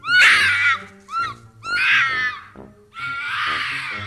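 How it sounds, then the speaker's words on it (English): A fox gives a series of shrill, wavering screams, close and loud, in three drawn-out bursts with short gaps between them, sounding eerily like a person shrieking. "that's just the sound a fox makes"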